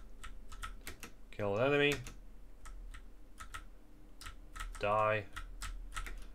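Computer keyboard typing and mouse clicking while working in GameMaker, rapid quiet clacks scattered throughout, with two short synthetic game voice lines spoken over it.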